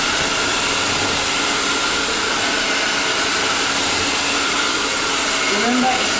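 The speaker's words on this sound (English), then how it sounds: "I'll be using my hand dryer to achieve that, and I'll need to also turn the heat on." A handheld hair dryer runs steadily with its heat on, blow-drying hair for a bridal style; a loud, continuous broadband whoosh fills the whole stretch, close and unbroken.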